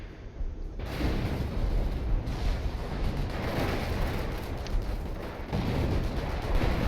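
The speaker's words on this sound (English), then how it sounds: "artillery coming right down on top of this Flak 88" An artillery barrage in Company of Heroes falls on a Flak 88 position in urban tank warfare, with continuous rumbling explosions and booming impacts that surge in waves and stay loud throughout.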